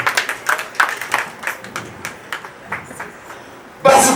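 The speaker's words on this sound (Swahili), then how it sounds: "Makofi tafadhali." Audience at a birthday party clapping in scattered, uneven bursts that swell into a louder, denser round of applause near the end.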